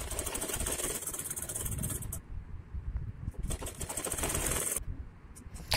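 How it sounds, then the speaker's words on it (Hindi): A sewing machine stitches a boat-neck kurti with blue thread, giving a steady, close mechanical whir that runs on with a couple of brief drops in level. "ब्लू धागा ले लीजिए मशीन में और थोड़ा सा लॉक करते हुए सिलाई को स्टिचिंग को स्टार्ट कर दीजिए"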